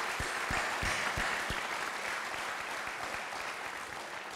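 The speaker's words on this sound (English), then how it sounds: "Could we have another round of applause for her?" Audience applause at an outdoor graduation ceremony for a national anthem singer, a steady wash of clapping with a few louder nearby hand claps, continuous and fairly even throughout.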